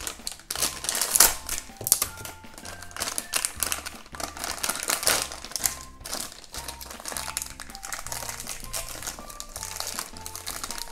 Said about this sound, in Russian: Сюрприз в пакетике. Давайте еще один такой откроем.